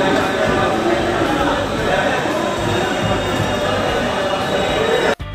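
A passenger train running near Kozhikode makes a loud, continuous roar of wheels and carriage noise that fills the whole stretch and cuts off abruptly at the end.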